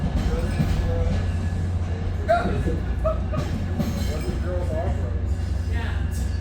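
A train passes outdoors with a steady low rumble and a few faint metallic clinks, holding at a constant level while a voice talks over it.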